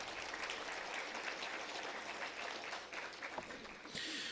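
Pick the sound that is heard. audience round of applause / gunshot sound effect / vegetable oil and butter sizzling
audience round of applause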